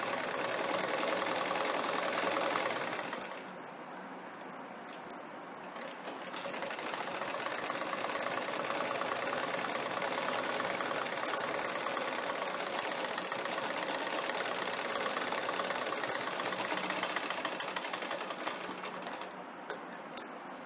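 Electric sewing machine stitching blouse fabric, a fast steady needle clatter that runs nearly continuously at close range, pausing briefly once before restarting.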